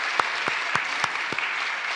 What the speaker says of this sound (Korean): 우리 감사의 박수를 드릴까요?